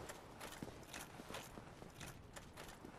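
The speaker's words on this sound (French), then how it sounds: "c'est quoi ces bruits de pas?" Footsteps in the video game Dark Souls, a faint continuous series of soft clopping steps with an even walking rhythm, heard alone without talk.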